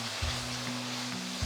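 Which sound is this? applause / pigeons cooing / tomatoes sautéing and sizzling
tomatoes sautéing and sizzling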